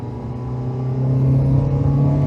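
A Mercedes-Benz 190E (W201) engine drones steadily from inside the cabin under full throttle, its low rumble swelling gradually louder as the car picks up speed.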